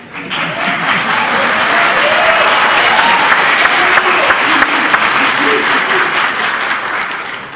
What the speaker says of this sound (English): I know y'all clapping for him now that I got it right.